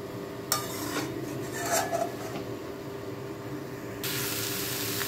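Potato and soybean curry being mixed in a pan over low heat, with light scraping and clinking of the utensil against the pan under a steady background hiss, close and moderately quiet.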